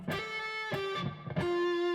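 Electric guitar with light distortion playing a phrase: three sustained notes, each struck sharply with a quick hammer-on grace note into the held pitch, ringing clearly and alone.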